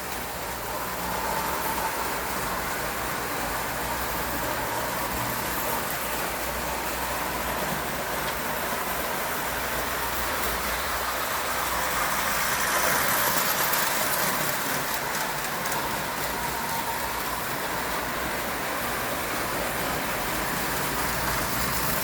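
Small model train driven by a single-axle can motor, running at a quicker pace: a steady, continuous whirring and rattling hum close by, even in level throughout with no talk.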